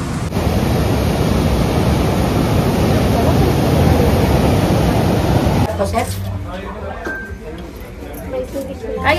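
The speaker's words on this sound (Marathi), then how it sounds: "लाटा बघ." Ocean waves break at Anjuna beach in Goa as a loud, dense roar of surf that holds steady, then cuts to a quieter, choppier wash near the end, with people talking over it.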